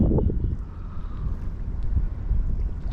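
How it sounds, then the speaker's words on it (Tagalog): Strong wind buffets the microphone while someone casts alone from a boat, giving a loud, gusty rumble that carries on throughout with no speech. "So malakas na rin yung hangin."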